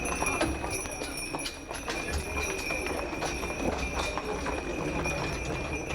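Horse-drawn carriage hooves clip-clop steadily on pavement nearby, a regular trotting rhythm with a faint high ringing tone and background street noise throughout.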